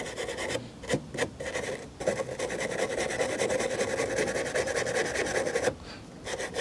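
A small wire brush scrubs a rusty metal cap in the engine bay of a one-owner Alfa Romeo Spider, giving a steady close rasping scrape with a few brief pauses between strokes and no talk.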